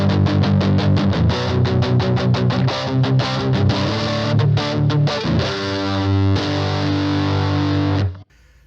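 Electric guitar on the bridge pickup through a ProCo RAT distortion pedal, fast loud chugging palm-muted chords that open into a held, ringing distorted chord before cutting off.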